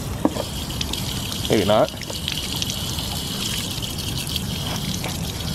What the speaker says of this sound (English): if I dump this water out, it'd probably spin.